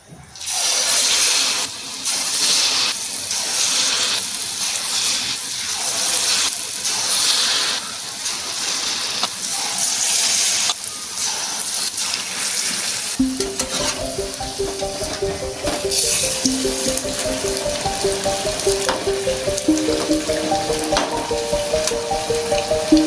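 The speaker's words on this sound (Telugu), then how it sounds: "ఒక పక్క కాలిన తర్వాత రెండో పక్కకి ఈ విధంగా తిప్పుకోవాలి." Mysore bonda fritters deep-frying in hot oil: a loud, steady, close sizzle with crackling bursts, then a softer bubbling fry joined by a quiet tonal background sound partway through.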